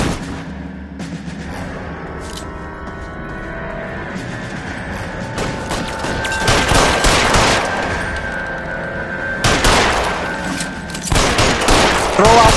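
Gunfire in the video game L.A. Noire comes as loud bursts of rapid shots. The shooting swells in heavy volleys near the middle and again toward the end, with voices shouting in the gaps.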